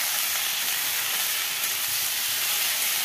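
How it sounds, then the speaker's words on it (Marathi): Radish vegetable sautéed in a pan, producing a continuous loud hiss of frying that stays even throughout, close by with no voices. "हे बघा, मस्त आपण असं आता हे परतून घ्यायचं."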